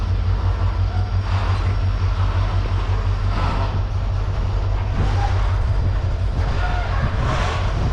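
A cargo train rolls along rails in Turkey, a steady loud low rumble with periodic clatter and rising swells of wheel-and-track noise, close and continuous throughout.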